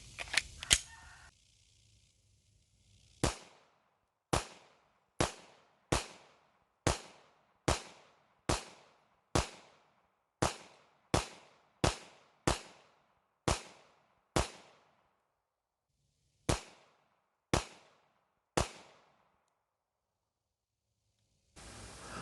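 A pistol loaded from a 17-round P80 Glock-style magazine fires sharp, loud single shots at an uneven but fairly regular pace, about fifteen reports with pauses, the mechanism clattering briefly beforehand.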